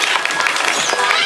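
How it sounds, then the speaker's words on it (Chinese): Audience applause at an animal theatre show on an eco farm, a dense, steady burst of clapping from a crowd, close and loud throughout. "请给他掌声鼓励。"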